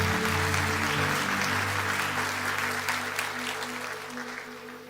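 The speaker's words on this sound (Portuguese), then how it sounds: "Forte aplauso para os nossos atores." An audience applauds actors at a talk event, with sustained clapping that is dense and steady at first and then slowly thins and fades over about five seconds, heard from within the room.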